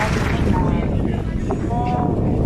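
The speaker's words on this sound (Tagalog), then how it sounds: "Yung hangin lang." Strong wind buffeting the microphone outdoors in Tagaytay, a loud, close, rumbling gusty roar throughout, with a voice briefly heard beneath it.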